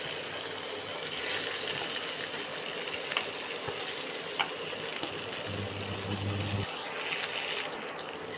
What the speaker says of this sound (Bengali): তো সেটাকে আমি এখন এই তেলের মধ্যে দিয়ে দিচ্ছি